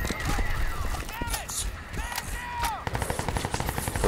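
Rapid bursts of automatic gunfire from the Crysis 2 shooter game, dense and loud, with repeated volleys across the whole stretch amid other game effects.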